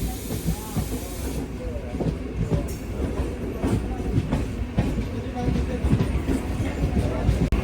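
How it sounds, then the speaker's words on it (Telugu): A special train runs alongside on the adjacent track with a steady roar, hiss and rhythmic clickety-clack of wheels over rail joints, loud and continuous from close by. "ఇది ఇంకొక స్పెషల్ ట్రైన్."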